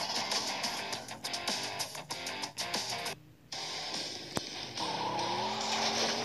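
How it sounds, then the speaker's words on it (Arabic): A video game car launches with a burst of engine noise and repeated tire skids, short screeching bursts in quick succession, a brief gap, then the engine pitch climbing again. "تنطلق تنطلق السيارة"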